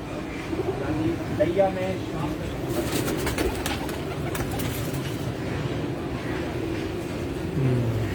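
Pigeons cooing softly amid outdoor background noise, with low, rolling coos repeating under a steady ambient hum.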